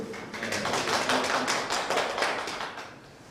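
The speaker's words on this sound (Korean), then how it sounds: "박수 한번." Sustained applause from an audience at an academic conference session on gentrification and fear of crime, a dense, even patter of many hands filling the room at moderate distance.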